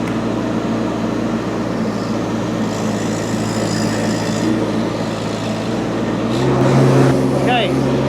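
A Rippa RS06-2 mini skid steer idles with a steady, smooth engine hum and hydraulic drone that swells slightly near the end, with someone talking over it.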